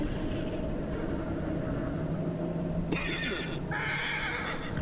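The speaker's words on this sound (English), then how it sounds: "Horse is a bit spooked." A horse whinnies in the video game Shadow of the Colossus over a steady ambient bed, followed by a burst of brighter, rustling activity near the end.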